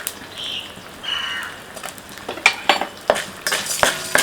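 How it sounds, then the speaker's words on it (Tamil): Mustard seeds, cumin, urad dal, chana dal and cashews roasting in ghee, with sharp, scattered pops and metallic spoon clinks against the pan that grow denser, and no talking. "இது எல்லாத்தையும் சேர்த்து நல்லா ஓரளவுக்கு செவுக்கிற அளவுக்கு வறுத்துக்கலாம்"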